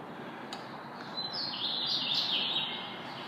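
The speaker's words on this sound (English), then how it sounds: "there are a lot of birds that fly around this area, and they do try to build nests here" Birds chirp around a multi-level parking structure with electrical conduits along its sides, a few faint tweets rising over steady background hum, heard alone without talk.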